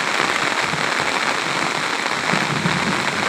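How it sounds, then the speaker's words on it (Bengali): Steady, dense rain patters and hisses on surfaces by the Baranai River in Naldanga, Natore, Bangladesh, a constant close downpour with no pauses. "দেখেন বৃষ্টির শব্দে, মুহুর্মুহু শব্দে"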